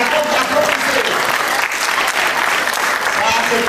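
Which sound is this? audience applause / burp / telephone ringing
audience applause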